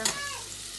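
Food being stirred in a hot frying pan during home cooking, a brief soft scrape over a low, steady sizzle, heard alone without talk.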